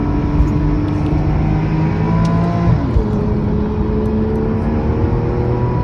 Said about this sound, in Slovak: Pozor, máme auto oproti, čierny Peugeot oproti